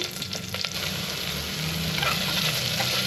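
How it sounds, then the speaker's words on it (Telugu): Onions and green chillies frying and being stirred in a pan, a steady close sizzle with scraping stirs running throughout, no talk. "ఇది బాగా ఇలా కలుపుకొని వేగనియాలి ఆనియన్స్ అంతా."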